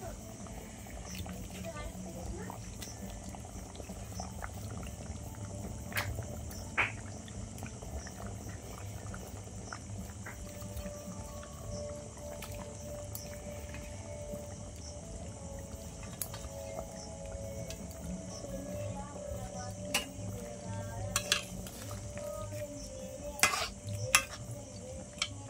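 Fish pieces go into a simmering curry with ground spice paste and are stirred, giving a soft bubbling and occasional scraping under a steady speaking voice.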